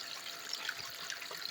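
Water runs steadily through a Geo sluice highbanker during gold prospecting in California, a continuous close rushing and trickling wash with no voices.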